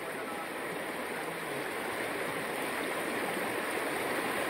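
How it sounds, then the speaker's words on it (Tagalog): A waterfall at a camp site in the Philippines rushes steadily, a dense, even roar of falling water that fills the whole stretch without pause. "Sa amazing waterfalls,"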